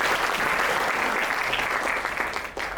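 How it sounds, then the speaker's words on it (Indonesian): Steady applause from a talk-show audience clapping for a guest being introduced, dense and continuous throughout and tapering slightly near the end. "Kasih tepuk tangan dulu buat Pak Chris."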